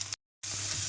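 Bitter gourd and onion sauté in a pan with a steady, close sizzle, broken by a brief silent gap before the frying hiss resumes.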